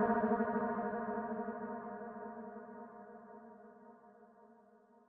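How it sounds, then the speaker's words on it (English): A lingering reverb tail of sustained, harmonic tones after a vocal slowly fades away on its own in FL Studio, smooth and quiet, with no new sound entering. "let the reverb completely run its course."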